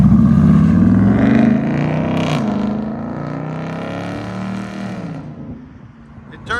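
A 5.7-liter Hemi V8 in a RAM 1500 with true dual exhaust revs loud and close, its deep, rumbling tone holding steady for several seconds before easing off near the end.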